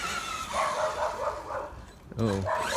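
A dog barks a few times over a noisy outdoor background, likely reacting to a 1/8 scale 6S monster truck being run in a backyard, the barks short and fairly close.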